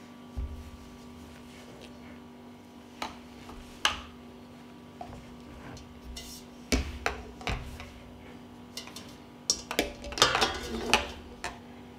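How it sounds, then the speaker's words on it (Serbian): Glass jars are set one by one onto a cloth lining the bottom of a cooking pot before pasteurizing, giving scattered light clinks and dull knocks over a faint steady hum. "na dno ću staviti krpu i poređat ću tegle unutra"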